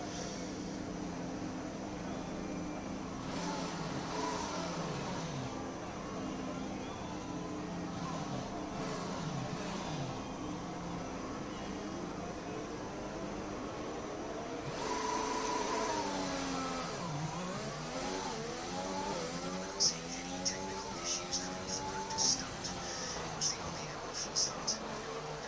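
Formula 1 cars start a race at the Monaco Grand Prix in the F1 2020 game. Engines whine and rise in pitch in a steady, layered drone, with sweeping revs building partway through.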